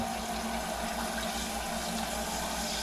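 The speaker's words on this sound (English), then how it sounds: "And then we can fill it back up." Tap water pours steadily into a filter pitcher after a filter change, a soft, continuous rushing fill heard close and fairly quiet.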